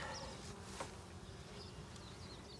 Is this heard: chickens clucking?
no